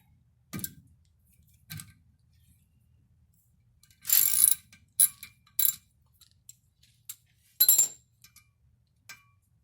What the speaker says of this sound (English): Taking the hex screw off and the rotor gonna be out.